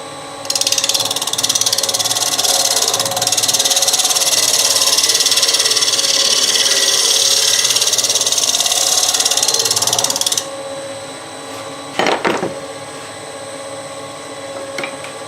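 A gouge trues the edge of a wooden bowl spinning on a wood lathe, giving a loud, steady chattering cut for about ten seconds. The cut then stops, leaving the lathe's quieter hum and a brief knock.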